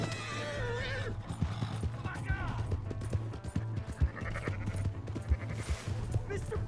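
A horse in Red Dead Redemption 2 clip-clops with rapid hoofbeats and whinnies, while other animals bleat nearby, amid a busy outdoor scene with shouting voices.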